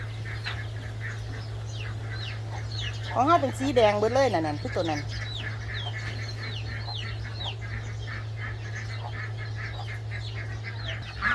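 Muscovy ducks on a farm give a short burst of breathy, honking calls in the middle, standing out over ongoing nearby chatter from someone speaking throughout.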